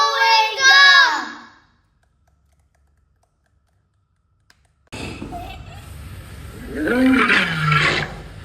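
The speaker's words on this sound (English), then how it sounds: "It's a lion roar." A lion roars loudly at close range, a long rumbling call that rises and fades, followed after a silent gap by a second roar over a noisy background.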